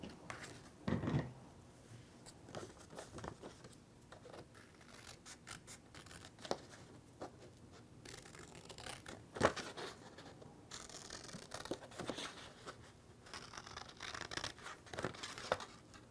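Scissors snip through paper pieces for a weather vane craft, a run of quiet, close crisp cuts and rustles with faint paper handling between them.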